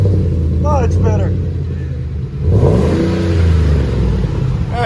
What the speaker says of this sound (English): That's the HV2. You see how it's just a smooth sound?